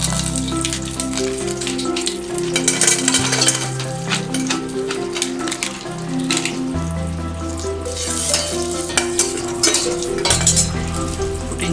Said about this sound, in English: I am going to fry some raisins and cashews for the payasam.